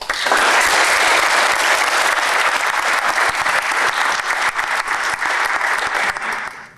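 A room full of people applauds at an Eagle Scout ceremony, steady and close, with heavy clapping filling nearly seven seconds before trailing off at the end.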